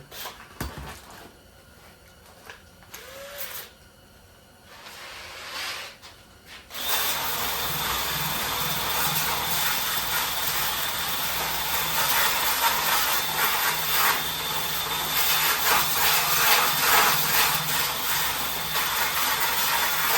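A wire wheel on a power tool scours rust and paint off metal in a welding shop, a loud, steady abrasive whir that kicks in after quieter handling noises and grinds on continuously.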